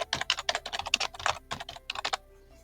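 Rapid keystrokes on a computer keyboard come in two quick bursts of close, crisp clicks, then fall silent near the end.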